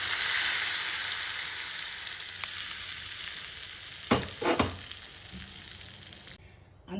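Hot tempering poured into tamarind-leaf dal, a continuous loud sizzle with a few sharp splutters and stirring knocks midway, then fading.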